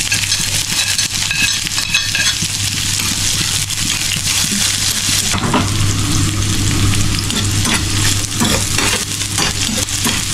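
Onion and garlic frying in a pan for a Filipino string bean sauté, a loud, continuous close sizzle with crackling and occasional stirring scrapes throughout.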